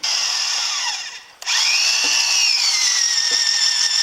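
A power drill boring a hole into the timber of an old barn during restoration work, a loud steady whine that dips briefly, then revs back up and runs continuously and close.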